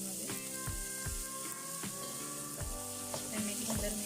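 Chicken devilled with tomato sauce being stirred in a sizzling frying pan, a steady frying hiss with repeated scraping strokes of the spoon against the pan at close range.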